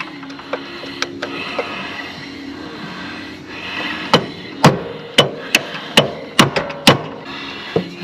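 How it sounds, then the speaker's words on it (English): A straight-bladed screwdriver hammered into the split slot of a hydro belt idler pulley sheave on a Wright Stander mower, a run of sharp metallic strikes at a quickening pace after a stretch of softer clatter, close and loud. "I was going to take a straight bladed screwdriver and drive in that slot"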